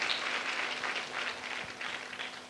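Audience applause at a spiritual gathering in Kanpur welcoming Geeta Didi, a steady, continuous patter of many hands clapping throughout, moderately distant and without speech.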